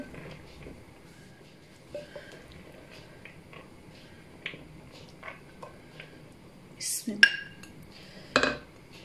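A spoon stirs and knocks in a pot of cooked goat trotters in broth, with soft clinks building to a few sharp metallic clangs near the end; a low voice murmurs in the background.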